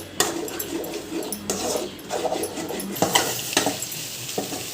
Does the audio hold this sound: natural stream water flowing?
no